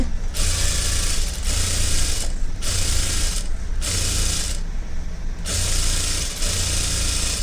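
A sewing machine stitches a blouse, its steady mechanical whir and clatter running in several bursts separated by brief pauses, close and clear with no talking.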